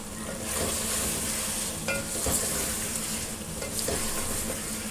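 Continuous close sizzling and frying of spice paste in a pan for mutton gosht, with occasional scraping stirs, steady and fairly loud with no talking.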